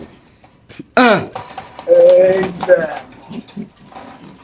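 Racer pigeons at a pigeon farm coo and flutter in short bursts close by, with people's voices talking over and between the calls.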